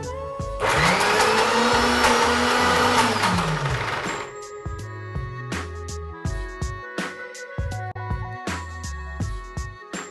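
A mixer grinder roars loudly for about three seconds while grinding curry leaf and peanut chutney, then stops, leaving irregular clattering and thumps.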